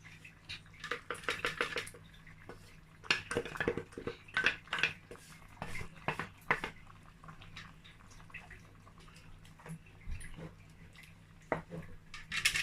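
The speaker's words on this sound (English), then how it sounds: "So I'm going to pour my okra." Thick blended okra poured and plopping into a pot in irregular bursts, with scattered clinks of a utensil against metal; no talking.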